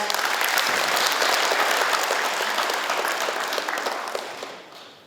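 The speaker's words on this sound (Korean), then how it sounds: "이철우 도지사님께 뜨거운 박수 부탁드립니다" Warm audience applause at a Korean provincial governor's public forum on low birth rates, a dense steady roll of many hands that gradually fades toward the end.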